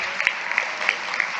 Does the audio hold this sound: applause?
yes